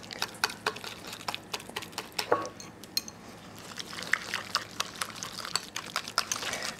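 Anchovy compound butter being mixed in a bowl, with quiet, irregular scraping and light clinking of a utensil against the bowl, close by, with no talking.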